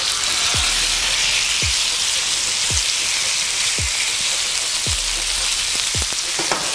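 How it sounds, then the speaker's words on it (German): Pork pieces fry in oil in a hot pan with a loud, steady sizzle, and occasional low thumps recur through the hiss. No one talks. "das Ganze braten wir mit etwas Öl 5 bis 10 Minuten in einer Pfanne schön scharf an"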